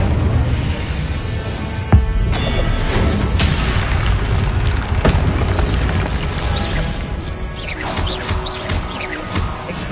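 Incendio fire spells in Hogwarts Legacy burst as loud, booming blasts with crackling fiery crashes, forming a dense and continuous wall of combat sound with one sharp hit standing out.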